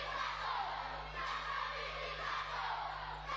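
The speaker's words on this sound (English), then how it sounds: "We can already hear this young and boisterous crowd at Lawaqa Park getting behind the Vodafone Fijiana team." A young, boisterous crowd at a women's rugby match at Lawaqa Park, Fiji, roars and shouts steadily throughout, a dense, continuous wall of cheering at moderate distance.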